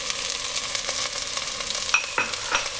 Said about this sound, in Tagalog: At itutuloy lang natin yung paggisa dito.